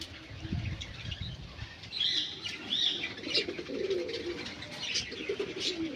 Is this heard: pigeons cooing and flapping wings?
yes